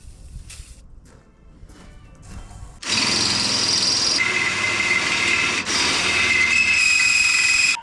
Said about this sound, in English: I don't think your drill bit's very sharp.